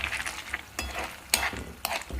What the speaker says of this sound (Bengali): ওকে, ভালোভাবে নেড়ে চেড়ে নিই।